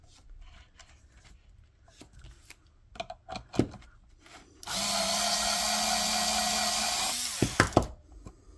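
Scattered handling clicks of brass cartridge cases, then a Forster 3-in-1 case mouth cutter on a power drill whirs steadily for about two and a half seconds while trimming a case mouth, close and loud, before stopping with a few taps.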